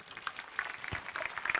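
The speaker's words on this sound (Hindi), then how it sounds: "इनका तालियों से अभिनंदन कीजिएगा" Audience at a model youth gram sabha school event applauding the representatives, a quiet, steady spread of clapping from many hands, faint and somewhat distant.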